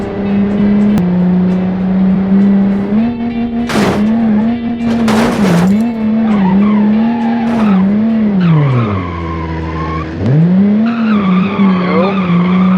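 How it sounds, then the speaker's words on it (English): A low-geared delivery van in BeamNG spins its tires, giving loud sustained tire squeal over a droning engine whose pitch rises and falls, with sharp skidding bursts and a brief drop in engine tone near the end. "It certainly spins its tires everywhere."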